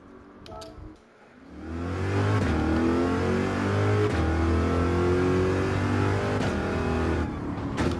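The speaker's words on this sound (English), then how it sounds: "Corvette also sounds fantastic." A front-engine, rear-wheel-drive Corvette revs up loudly and holds a strong, steady engine note for several seconds, close and with no voices.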